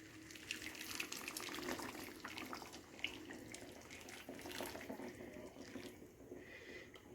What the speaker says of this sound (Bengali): আমি গরম জল করে রেখেছিলাম এক কাপ মতো সেই জলটা দিয়ে দেবো